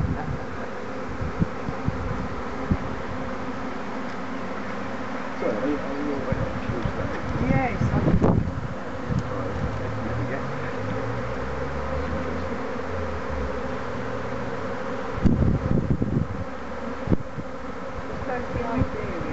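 A honey bee swarm hums and buzzes densely around a hive landing board, a constant close drone under people talking, with a few brief louder rustles.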